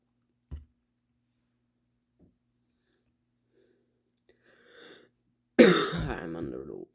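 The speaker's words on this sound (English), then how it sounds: "Coughing." A single short cough comes first, then near silence, followed by a loud burst of coughing and throat clearing close by.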